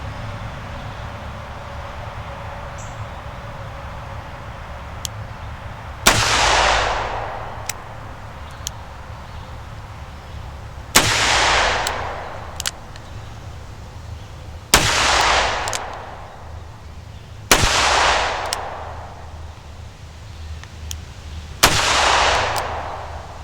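Five loud gunshots, spaced a few seconds apart, from a 5-inch .357 L-frame 686 revolver firing 158 grain PMC bronze rounds outdoors, each a sharp crack with a trailing echo over steady background hum.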